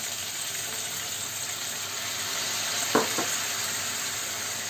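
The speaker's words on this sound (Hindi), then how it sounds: "तो ये 1 चम्मच हम ये डाल रहे हैं chilli sauce, chilli tomato sauce 1 चम्मच से, और 1 चम्मच हम इसमें डाल रहे हैं सोया सॉस" Chilli tomato sauce and soy sauce hitting a hot pan, giving a steady bright hiss with a brief louder splash and stir near the middle, with no talking.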